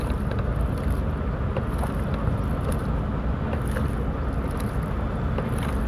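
A boat moving on a river toward a ghat, a constant loud rumbling engine drone with water and wind noise throughout, no talking.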